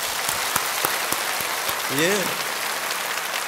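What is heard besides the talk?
church congregation applauding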